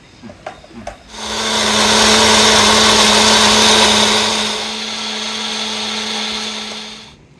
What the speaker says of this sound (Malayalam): ചിരിക്കുട്ട ജ്യൂസൊക്കെ നന്നായിട്ട് അരിഞ്ഞു വന്നിട്ടുണ്ട്